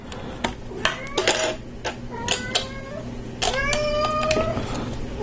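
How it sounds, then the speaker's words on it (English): A house cat meows repeatedly and close by during a Lego set build indoors, with several distinct meows spread across the moment and faint clinks between them. "When I'm on a video is when you're gonna start meowing."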